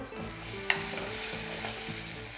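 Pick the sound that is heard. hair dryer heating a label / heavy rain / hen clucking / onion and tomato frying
onion and tomato frying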